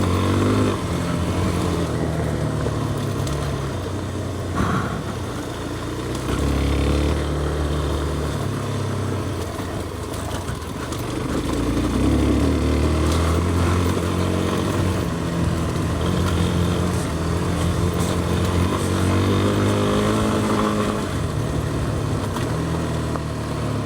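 Off-road motorcycle ridden hard along the Trans Euro Trail through the Albanian highlands near Orosh, its engine droning steadily and rising and falling in pitch throughout, loud and continuous with no talk.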